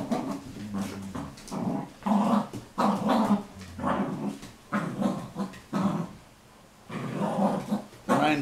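Several dogs, shepherds and a Sealyham terrier, growl and snarl in play, with bursts of rough grumbling, yips and whimpers coming close together and loud.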